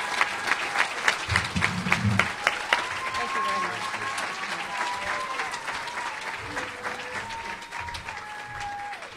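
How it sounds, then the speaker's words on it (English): An audience at a Hall of Fame dinner and awards ceremony claps at close range. A burst of applause rises and then thins to scattered clapping, and a voice speaks over it at times. "Let's give another round of applause for Ginny Ziogas Torreso, Hall of Fame class of 2016."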